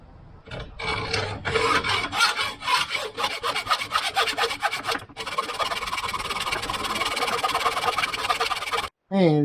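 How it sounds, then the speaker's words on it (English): A hand hacksaw cuts through a rail in steady back-and-forth rasping strokes, loud and close, with a short pause near the end. "now we have a nice line to follow with the hacksaw"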